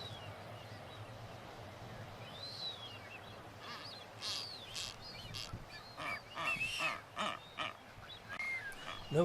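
Several short nasal honks from a female blue-footed booby stand out over a steady background of wind and distant bird calls, growing louder and more frequent toward the end, in the Galapagos.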